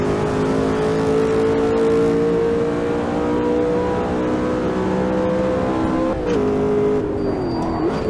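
Race car in Automobilista 2 sim racing at full throttle, with a loud, steady engine drone and rising harmonics that dip briefly near the end before climbing again, continuous throughout with no talk.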